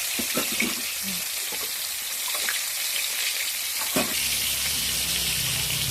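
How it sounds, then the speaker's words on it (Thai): Fermented fish (pla som) fries in a pan over medium heat, a steady close hiss of sizzling oil with a few light clinks and bubbling pops. "ปลาลงไปเลยทอดไปนะคะทุกคน ทอดไปเรื่อยๆ"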